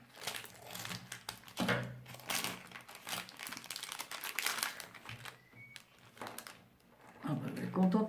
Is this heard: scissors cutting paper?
yes